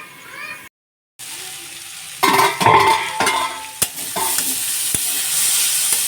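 A spoon stirs spiced vegetables frying in a pan that is otherwise kept covered. Scraping clinks stand out over a steady sizzle that swells toward the end.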